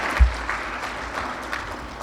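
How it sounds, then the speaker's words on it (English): Brief, soft audience applause at a Founders Day event honoring a state representative, a thin patter of hands sounding somewhat distant after a low thump at the start. "We are more than welcome to give applause."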